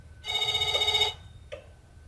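A telephone in the game Else Heart.Break() gives one long electronic ring of about a second, followed by a short faint chirp, loud and close with no talking.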